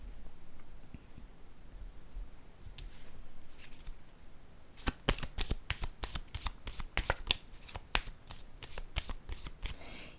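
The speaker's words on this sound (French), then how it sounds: "Je vais déposer une carte ici." Playing cards shuffled and handled on a table during a card reading, with quiet rustling at first and then a close, rapid run of crisp flicks and slaps from midway on, with no talking.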